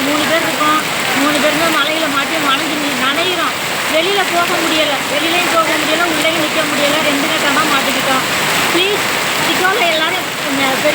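Rain falls steadily at a Shiva temple, a constant dense patter and wash, with a voice talking over it throughout.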